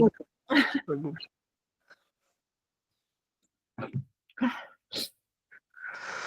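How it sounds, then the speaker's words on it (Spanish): During a law lecture, a woman gives a short, held-back sneeze between bursts of her own speech. The sneeze is close and clear against an otherwise quiet room. "No quiere salir el estornudo, pero ahí está."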